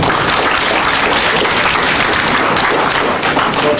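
Large crowd at a public event in Ouaké claps loudly and continuously, a thick, sustained roar of applause with no break, close and intense throughout.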